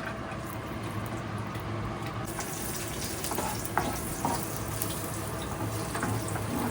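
Cashews sizzle in hot oil for chicken biryani, a steady, close frying hiss with occasional soft pops and stirring scrapes.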